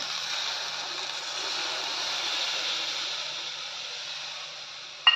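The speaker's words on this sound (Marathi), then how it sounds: "आता आपण त्यात हे दूध ओतून घेऊया." Milk pours into a pan of sago fried in ghee, a steady close hiss and rushing gurgle that holds evenly throughout and ends with a short clatter.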